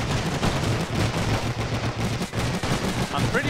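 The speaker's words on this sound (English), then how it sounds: "Oh, a machine gun somewhere? I can hear it." Machine gun fire in a World War I video game on the Russian front, dense rapid bursts of gunfire with scattered rifle shots, loud and continuous across the battlefield.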